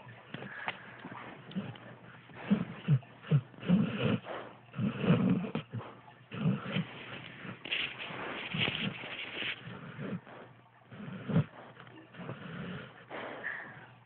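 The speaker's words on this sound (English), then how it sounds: "I never knew a dog could really snort in their sleep." A dog snorts and snuffles in its sleep, with quiet, irregular nasal breaths repeating close by.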